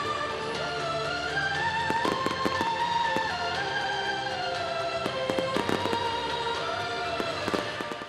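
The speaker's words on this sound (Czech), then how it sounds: "Vyvrcholením celého programového konceptu oslav prvního dne byl ohňostroj." A fireworks display of 75 mm and 100 mm aerial shells bursts in scattered sharp bangs and crackles over a continuous bed of tonal, whistling sound, heard from a distance without speech.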